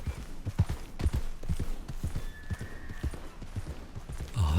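Horse hooves clip-clop at a steady walking rhythm in Red Dead Redemption 2, close and distinct, a soft neigh near the end and faint talk in the background.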